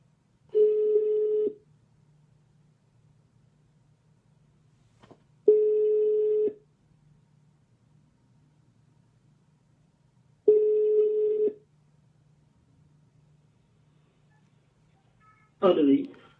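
A ringback tone sounds while a mobile phone is being called, three steady long rings spaced evenly apart with silence between them, ending in a short burst of sound.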